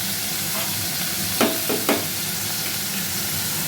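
Steady sizzle of onion frying in a pan, with a few brief scraping stirs of a spoon partway through; no voices.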